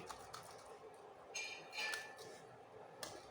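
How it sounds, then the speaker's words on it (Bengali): Potatoes being grated for sabudana luchi, a quiet, steady scraping and rasping with a few light metallic clinks, close and faint, with no talking. "আমি সবগুলো আলু এখন ভালো করে গ্রেট করে নিচ্ছি।"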